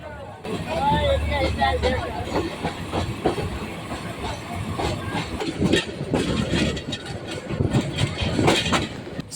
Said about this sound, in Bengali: স্টেশনের পর স্টেশন ছেড়ে ঝিকঝিক শব্দে আমাদের ট্রেন ছুটে চলেছে দুর্বার গতি নিয়ে সামনের দিকে